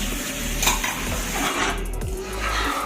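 A spoon scrapes and clanks steadily against a pan as onion and cashew paste fries with a soft sizzle, close and clear with no talking.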